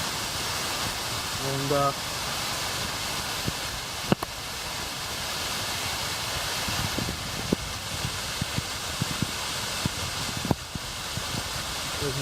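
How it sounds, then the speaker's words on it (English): A waterfall at Vera Falls gives a steady broadband rushing roar that fills the scene, with a voice speaking briefly over it and a few small knocks and footstep-like clicks. "there's more of the waterfall."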